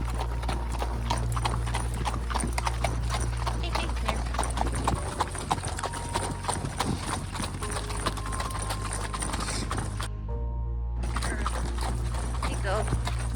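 Hooves of an Arabian horse wearing scoot boots gallop in a fast, steady clip-clop over open ground in Montana, loud and continuous with wind and a voice speaking over them.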